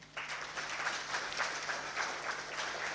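An audience claps for a speaker after an address, a modest spread of hands heard somewhat distant and thin, sustained evenly for a few seconds without talk.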